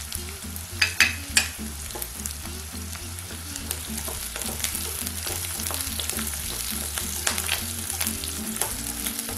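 Shallots and curry leaves sauté in oil in a pan for tamarind curry, a continuous close sizzle broken by frequent scraping stirs and occasional clinks of a spoon against the pan.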